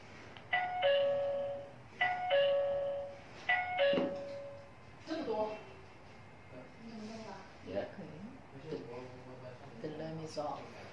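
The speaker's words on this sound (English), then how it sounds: "when someone press the doorbell." A wifi video doorbell chimes three times in quick succession, ringing out clearly, followed by people talking quietly.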